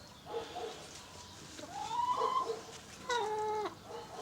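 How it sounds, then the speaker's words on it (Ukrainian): A few chickens cluck and make drawn-out, rising calls nearby in a garden enclosure, with scattered softer clucks between the louder calls. "у цій загороді я тримаю кури."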